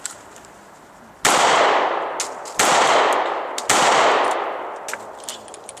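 Three sharp, loud shots from a Sig Sauer P938 pistol at target practice, evenly spaced about a second apart, each followed by a decaying echo, with no talk.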